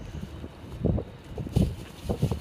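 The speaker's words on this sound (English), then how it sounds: "it's a little windy here" Wind buffets an outdoor microphone in low rumbling gusts, several soft thumps rising and falling over a steady airy background, with no voices.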